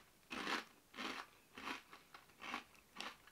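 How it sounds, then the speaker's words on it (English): Five loud, close crunches of scampi-flavour fries in a slow, even rhythm, each a crisp bite and chew with quiet gaps between. "Very crunchy. That's very loud in my head."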